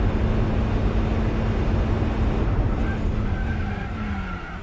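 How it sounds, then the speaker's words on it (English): A racing-modified car in Gran Turismo 4 skids in a steady, loud tire squeal over a droning engine, holding for several seconds before easing slightly at the end. "This is one of the slowest racing modified cars I've ever driven."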